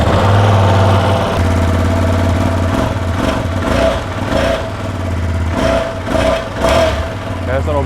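Ducati Panigale V2S motorcycle, a 2025 model not yet warmed up, starting and settling into a steady, loud idle with a deep rumble throughout, a few brief blips rising over it.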